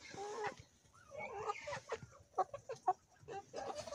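Young roosters and hens cluck and call in a backyard poultry yard near a cherry tree, with short, irregular bursts that are moderately close and fairly faint.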